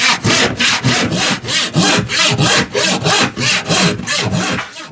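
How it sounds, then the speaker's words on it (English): A new hand saw cuts through plywood in about twelve close, loud, rhythmic strokes, each a rasping push-pull sweep, with no voices. "I don't get as much resistance usually when I'm sawing plywood."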